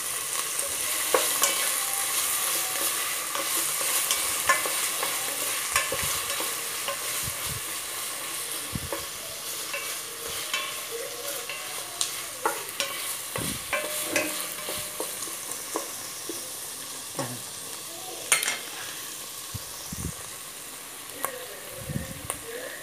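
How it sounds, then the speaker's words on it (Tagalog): Sliced tomatoes stirred into a pot for bangus sinigang sa miso, giving a steady close sizzle with frequent scraping and clinking stirs and no talk. "lalagay natin tong kamatis. Dalawang piraso tong kamatis na hiniwa ko."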